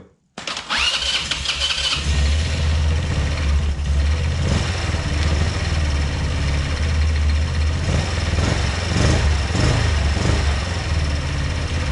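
A 150cc monster quad engine cranks and catches within the first second, then runs loud and steady at close range with a low rumbling idle and occasional revs.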